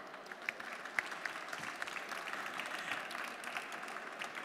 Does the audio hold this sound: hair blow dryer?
no